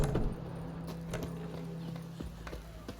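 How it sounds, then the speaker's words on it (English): Horse hooves clip-clop in the video game The Witcher 3, a run of close, distinct hoof strikes over a low steady hum, without talk. "my horses are glitching out"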